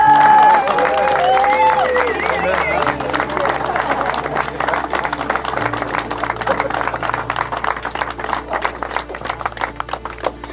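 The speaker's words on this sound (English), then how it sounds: "Let us give them a round of applause." Wedding guests applaud at a ceremony in Dubrovnik, a dense and fairly loud round of clapping that starts after a short stretch of voices and continues steadily to the end, with some cheering mixed in.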